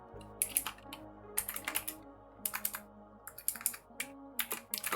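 Fast, light keystrokes clatter on a computer keyboard in uneven bursts, close and fairly quiet, with no talking during the typing.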